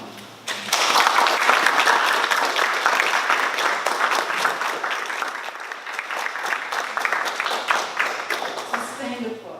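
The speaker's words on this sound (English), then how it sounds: "Sustained applause." Sustained audience applause from a crowd at a book talk, dense and steady for several seconds, fading slightly toward the end.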